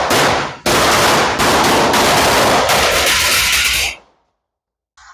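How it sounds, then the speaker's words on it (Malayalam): A string of firecrackers (maalapadakkam) set off for Vishu bursts in a loud, dense, rapid crackle for about three seconds, then stops abruptly into near silence. "മാലപ്പടക്കാണ് പൊട്ടിക്കാൻ പോകുന്നത്."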